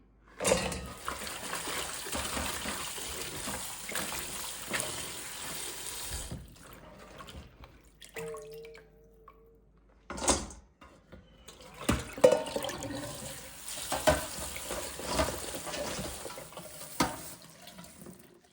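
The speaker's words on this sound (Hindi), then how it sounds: "सब्ज़ हरी मिर्चों को धो लेते हैं।" Water from a tap splashes in a sink as green chillies are washed, a close, continuous gushing that pauses briefly partway through and then resumes with clattering and rinsing. No one speaks.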